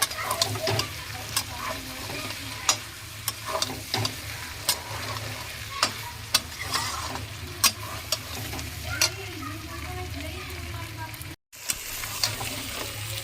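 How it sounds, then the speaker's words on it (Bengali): Chicken curry with cashew paste sautéing in a pan, a steady sizzle punctuated by regular sharp taps and scrapes of a spoon against the pan, close and continuous apart from one brief cut. "পেস্টটা দিয়ে ভালো করে কষিয়ে নিয়েছি"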